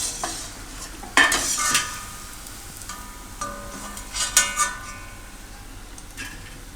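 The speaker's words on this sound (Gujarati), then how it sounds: "તો બધાય આ રીતે આપણે તળી લેવું." Methi malai muthiya dumplings frying in oil for a Gujarati dish: a steady sizzle broken by several bright scraping and clinking strokes of a metal spoon stirring in the pan, close and without talking.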